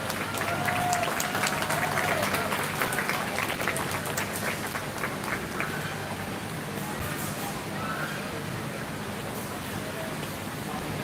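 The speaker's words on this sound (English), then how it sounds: "So let's give a big round of applause." Crowd applause rolls through a livestock arena at a 4-H and FFA sheep show at a county fair, sustained clapping that starts fuller and gradually thins, with faint voices and arena noise underneath.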